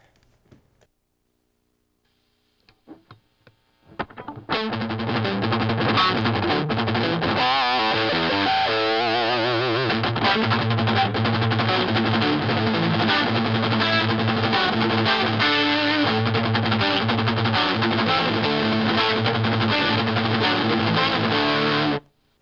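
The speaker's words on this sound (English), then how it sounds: "So I'm going to turn up the guitar here and get some distortion out of it" After a brief quiet start, a heavily distorted electric guitar plays loud, dense, palm-muted chugging riffs that continue without pause.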